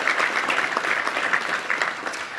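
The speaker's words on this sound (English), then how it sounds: "let's give all of them a round of applause for all the sponsorships there" A room of guests at a Little Rock Touchdown Club luncheon applauds its sponsors, steady dense clapping at full volume throughout, with no voices over it.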